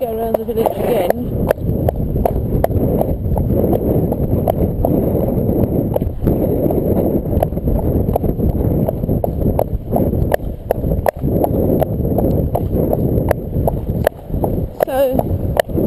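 A ridden cob's hooves clip-clop at a steady walking rhythm on a village road, close and clear over a constant rumbling background.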